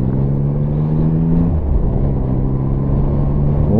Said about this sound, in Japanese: エンジンスタートね